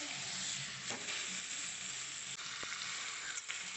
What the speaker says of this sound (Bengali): ভালো করে কচু শাকটাকে নেড়ে নিয়েছি